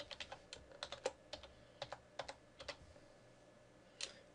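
A computer keyboard clicks as a password is typed, with quick irregular keystrokes coming in short clusters and a few pauses, quiet and close with no talk.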